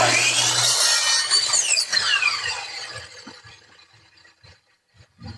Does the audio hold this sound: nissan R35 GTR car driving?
no